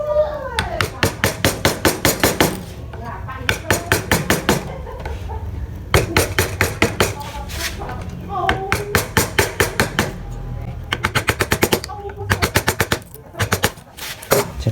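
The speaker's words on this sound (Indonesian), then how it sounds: "kita bikin cekung ke dalam menggunakan pahat kol" Balinese wood carving with a gouge chisel cutting a concave hollow: rapid, loud bursts of sharp mallet-on-chisel strikes, each volley several seconds long, separated by short pauses.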